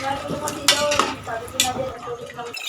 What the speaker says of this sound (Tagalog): Haluin lang natin para lumubog yung papaya sa sabaw.